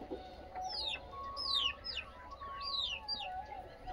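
Aseel rooster and desi chickens in a poultry yard: a run of repeated high, falling chirps and peeps close by, over a low background hum.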